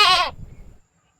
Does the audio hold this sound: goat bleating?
yes